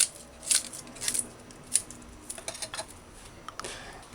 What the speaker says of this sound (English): Just dice it.